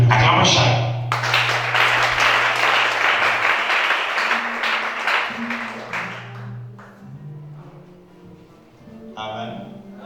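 A church congregation bursts into loud clapping and vocal cheering for several seconds, then the applause thins and fades while voices continue underneath.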